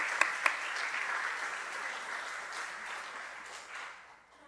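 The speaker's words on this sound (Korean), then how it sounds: "우리 관리부원들 위해서 한번 박수 한번 드리도록 하겠습니다." A church congregation claps for its management staff during a Sunday afternoon service. A couple of sharp early claps lead into a steady wash of applause that fades out toward the end.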